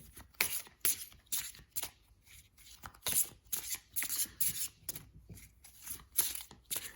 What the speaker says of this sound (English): So I'm going to shuffle the deck